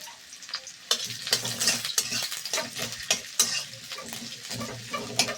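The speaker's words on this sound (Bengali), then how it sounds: "আমি পেঁয়াজগুলোকে বেশ ভালো করে একটু ভেজে নেব।" Chopped onions frying and being stirred in a pan for a mixed vegetable dish with spinach, a steady close sizzle broken by repeated scraping strokes of a spatula, with no talking.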